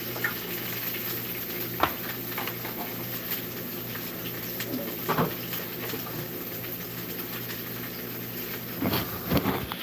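Continuous soft sizzle of food frying in a pan, with occasional clinks and stirring sounds, no voices.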